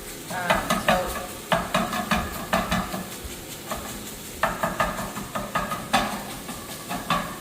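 Ground turkey fries in a pan as a spatula breaks it into smaller pieces, giving a constant close sizzle broken by repeated rhythmic scraping and stirring strokes.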